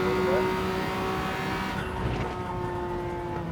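A bored-out, enlarged-displacement car engine in the Gran Turismo 7 racing game drones steadily with a strong, even tone, holding a constant rumble for a few seconds before easing slightly.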